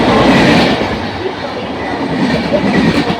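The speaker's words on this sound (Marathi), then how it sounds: "एक जलद गाड़ी जाने वाली है" A non-stop fast train, diesel or electric, passes through an Indian railway station at high speed, with loud, continuous rumble and clatter of wheels on rails filling the whole stretch without letting up.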